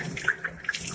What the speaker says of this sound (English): I'm now cleaning my hands, getting in between my fingers, using some tap water to do the trick.